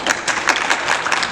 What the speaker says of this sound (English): by applause, who votes for Captain America camp